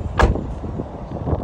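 Car door of a 2020 Hyundai Santa Fe Limited, one short solid thump as the door shuts, followed by quiet interior ambience.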